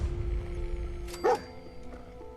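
Dogmeat, the dog in the Fallout 4 video game, lets out a single brief, close bark over a low, steady background hum, with no voices.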